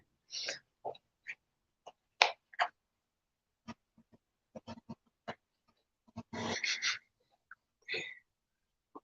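Little puppy being stroked, giving soft snuffling breaths, faint whimpers and small snorts in irregular short bursts, close and quiet against near silence.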